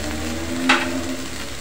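Peas and finely chopped carrots sauté in a hot pan for sevai upma, giving a steady close sizzle with a brief scrape or stir partway through and no talk.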